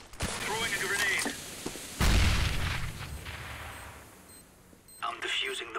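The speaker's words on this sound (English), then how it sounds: "Throwing a grenade." Grenade blast in CS:GO competitive play, a sudden loud boom with a low rumble that decays over a couple of seconds, set among gunfire and game noise.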